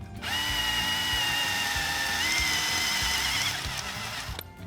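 Power drill spinning a Forstner bit into foam to cut a shallow recess, a steady whirring whine held for about four seconds close up, then cutting off abruptly.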